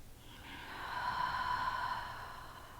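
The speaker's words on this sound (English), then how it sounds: "And we breathe deeply and exhale deeply." A slow, deep breath during a yoga pose, an airy rush that swells for about a second and a half and then fades, close and fairly soft, with no talking.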